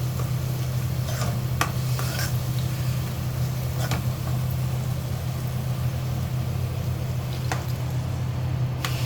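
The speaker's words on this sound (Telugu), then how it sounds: "ఇప్పుడు కొంచెం చింతపులుసు వేసుకుంటున్నాను నేను" Tamarind juice stirred into a simmering Musa fish curry with tomatoes, giving a steady bubbling sizzle under a constant low burner hum, with a few faint spoon clinks along the way.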